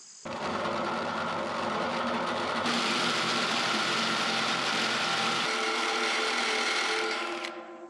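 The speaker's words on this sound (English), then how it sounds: "So anyway, let's get drilling." Drill biting into a steel sawmill rail with a small Harbor Freight Warrior bit, a steady loud grinding whir that runs continuously for several seconds, shifting pitch partway through and stopping near the end, with no talking.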